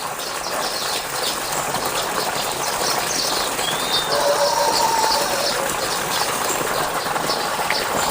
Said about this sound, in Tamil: அல்ல குருவியும் கூப்பிடுது பாரு